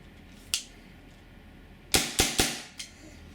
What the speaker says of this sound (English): Fire 3 shots and then turn this thing out all the way.